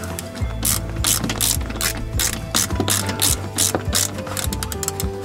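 A hand ratchet tightens bolts on a swivel seat console in a camper van. It makes rapid, close, even clicking strokes in a continuous rhythm with no talking.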